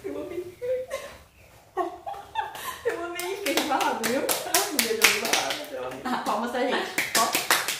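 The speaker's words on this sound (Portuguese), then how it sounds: "Palmas pra gente." Hands clapping in a burst of celebration over a cheerful, excited voice, with quick sharp claps stacking up from about three seconds onward and some laughter mixed in.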